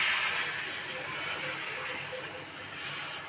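Rava dosa batter hits a hot griddle with a steady, hissing sizzle that swells at first and then settles into an even, close frying hiss.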